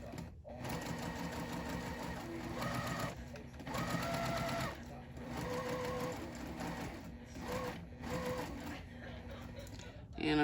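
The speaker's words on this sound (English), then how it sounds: "I'm just going to sew directly down the line I drew from corner to corner" A home sewing machine stitching a quilt block for a fall pumpkin pattern, running in several rhythmic bursts with short pauses between them, close and steady, with no voice over it.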